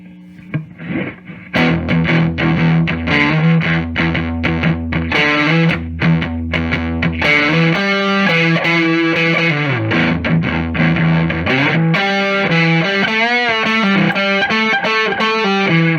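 Heavily distorted electric guitar played through a Varmint distortion pedal plays chords and riffs, loud and saturated, with a thick, fuzzy sustain and no voices.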